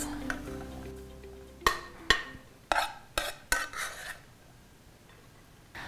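Cooked rice spooned onto a plate sitting on kitchen scales: a series of sharp scraping clinks of a spoon against the plate, about five distinct knocks spaced roughly half a second apart, close and clear, with no talking.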